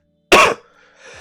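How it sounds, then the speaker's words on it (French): A single sharp cough bursts out close to the microphone, then a brief breathy aftersound trails off into near silence. "je tousse"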